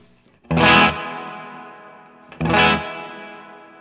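Electric guitar run through a 2-Rock amp with a Hydra plate reverb pedal: two loud, bright distorted chords struck about two seconds apart, each ringing out into a long, washy plate-reverb tail with no voices.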